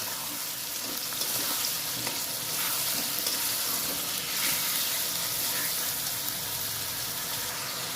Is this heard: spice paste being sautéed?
yes